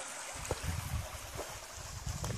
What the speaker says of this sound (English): Seems to be some water running down there.